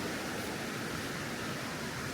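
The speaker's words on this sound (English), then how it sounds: "we are hiking down to a waterfall" A waterfall on the Foothills Trail in South Carolina gives off a soft, constant hiss of falling water, heard from some distance with no voices over it.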